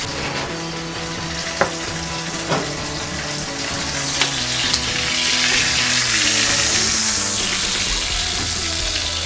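Venison backstrap sizzles loudly and steadily in a pan over coals, a dense continuous frying hiss broken by a few light clicks and knocks from the pan.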